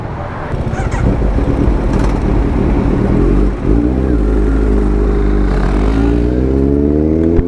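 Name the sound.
Kawasaki Z900 superbike riding off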